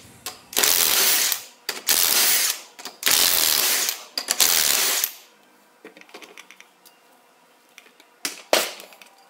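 Rapid ratcheting clicks from a hand wrench loosening 19 mm ring gear bolts on a Mahindra Roxor rear axle, several bursts in a row, then scattered light metallic taps and clinks.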